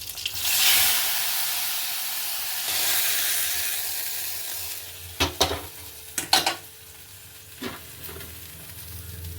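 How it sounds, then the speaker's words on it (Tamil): Shallots and curry leaves frying in hot oil for a mutton kola urundai kuzhambu make a loud, close sizzle that fades to a softer hiss, broken later by a few sharp clinks from stirring against the pan. "சின்ன வெங்காயமும் கருவேப்பிலையும் போட்டுக்குவோம் இதை நல்லா வதக்கி தாழ்த்து விடுவோம்"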